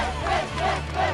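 Huge crowd of more than two million fans in lower Manhattan at the 1986 Mets ticker tape parade, a dense roaring cheer with shouting voices rising and falling in waves.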